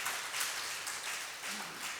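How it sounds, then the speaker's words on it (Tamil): An audience at a lecture applauds with steady, dense clapping that swells and fades slightly, moderately loud and without speech over it. "கைத்தட்டுங்க"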